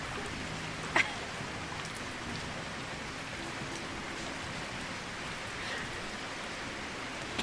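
Rain falls in a video game as a steady hiss of raindrops that stays even throughout, with a sharp click near the start and no voices over it.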